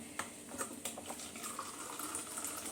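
Tap water running into a container in a home kitchen while tea heats nearby, a faint, steady hissing stream with small clinks and knocks in the background, fairly distant and low in level.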